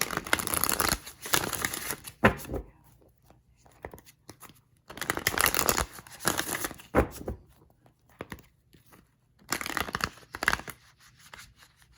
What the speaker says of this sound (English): this is definitely the last shuffle because the cards are like, all right, this is enough